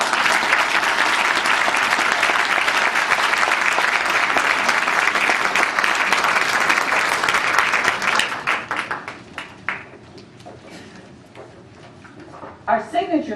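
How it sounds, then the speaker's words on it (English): Loud, sustained applause from a large audience at an evening awards ceremony, dense clapping that holds for about eight seconds and then fades into scattered claps and a few voices. "Another round of applause."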